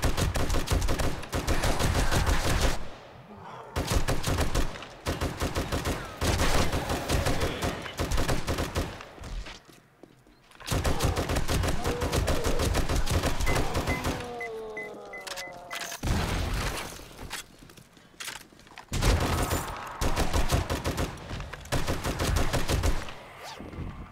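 Light machine gun fire in the survival game 7 Days to Die, long loud sustained bursts of rapid automatic shots separated by brief pauses, with a short mechanical reload-like whine in the middle.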